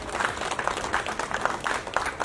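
Dense, steady crowd applause rises and falls from an audience at a 70th birthday celebration speech, sounding moderately near and filling the whole stretch with no talk over it.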